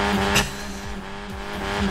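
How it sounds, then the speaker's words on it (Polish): In Forza Horizon 4, a car's tires squeal as they are warmed up, with a steady engine drone underneath and short skidding chirps that repeat in a loose rhythm. "Rozgrzewamy opony."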